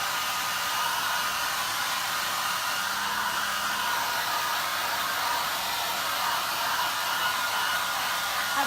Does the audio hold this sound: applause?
no